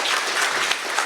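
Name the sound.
audience applause welcoming the founding chairman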